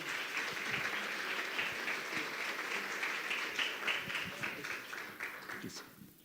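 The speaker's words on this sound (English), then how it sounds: "A big round of applause." Crowd applause at a lakes and wetlands biodiversity session, a dense, steady wash of many hands clapping throughout, thinning slightly toward the end.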